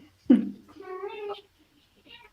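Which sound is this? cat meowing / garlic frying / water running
cat meowing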